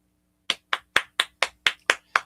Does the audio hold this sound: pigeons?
no